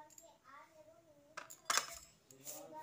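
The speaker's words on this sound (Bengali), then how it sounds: "এবার একটু মিশিয়ে নিচ্ছি।" Cake batter with baking powder, baking soda and vinegar is stirred in a bowl, giving soft scraping and a few sharp metallic clinks of a spoon against the rim, one louder clatter near the middle.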